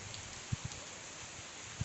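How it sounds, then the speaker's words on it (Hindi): Raindrops dripping from leaves during rain, a few soft, irregular plops, three or so, over a faint, steady hiss of rainfall, quiet and close by with no voices. "बारिश की बूंदें छम छम करती हुई पत्तों से नीचे आ रही हैं।"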